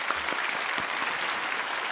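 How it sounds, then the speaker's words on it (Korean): A church congregation claps for its volunteers during a worship service, producing steady, dense applause throughout with no voices standing out. "우리 한번 박수로 격려해 주시면 감사하겠습니다"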